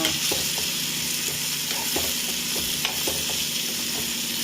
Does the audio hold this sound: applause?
no